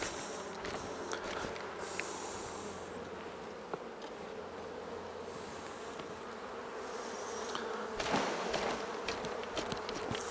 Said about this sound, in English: it's now a case of just taking the frames across and shaking the bees into their new home